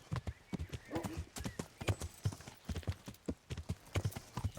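A horse's hooves clip-clop in a steady walking rhythm in the Kingdom Come Deliverance video game, clear and fairly close, with a faint whinny and no talk over it.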